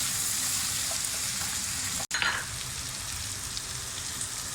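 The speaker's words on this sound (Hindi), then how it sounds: "चिकन भी हम थोड़ा सा फ्राई करके जब ये चिकन गल जाए तो फिर हम इसको भी प्लेट में निकाल लेंगे।" Chicken sizzles in a pan, a dense, steady frying hiss up close, broken by one brief drop-out and a short burst of louder spattering.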